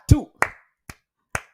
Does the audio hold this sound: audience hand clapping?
yes